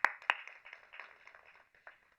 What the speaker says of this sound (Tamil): நானே கைத்தட்டிக்கிறேன்.